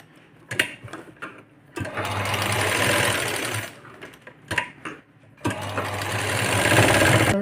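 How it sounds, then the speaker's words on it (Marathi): Sewing machine stitching a boat neck blouse center to center, running in loud, steady bursts of a few seconds each, separated by quiet pauses and handling clicks. "आपलं सेंटर टू सेंटर शिवत यायचं"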